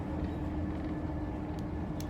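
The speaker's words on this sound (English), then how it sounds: "as you can notice, I'm on a train." Steady low rumble and hum inside a moving passenger train, continuous rolling noise with faint rattles, no voices.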